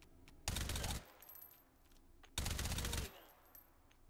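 Two rapid bursts of automatic gunfire fired from the hip in Hot Dogs, Horseshoes & Hand Grenades, each burst loud and dense and lasting about half a second, separated by a quieter pause.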